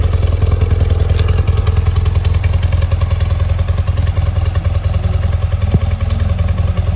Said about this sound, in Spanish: Y la moto arranca como un reloj.